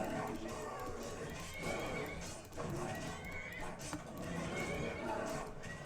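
A horse in the video game Skyrim neighs and whinnies amid clip-clopping hooves and busy game noise, loud and close, with talk over parts of it.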